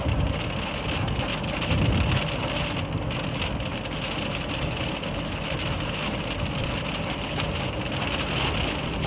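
Steady, loud rain pours on a moving vehicle during a storm chase near Lawton, a dense hiss with road rumble beneath and no voices.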